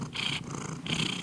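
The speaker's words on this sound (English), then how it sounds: "Can you hear the purring?" A big male cat purrs close by in a steady, continuous rumble, with two breathing cycles separated by brief pauses.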